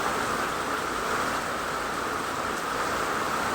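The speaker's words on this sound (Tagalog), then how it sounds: "Umuulan pa o malakas yung ulan." Steady, dense hiss of heavy rain pouring continuously, close and fairly loud, with no voices.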